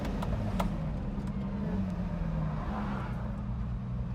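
A Lamborghini Miura supercar's engine droning steadily from inside the cabin while driving, a low continuous rumble with a few faint clicks and no talk.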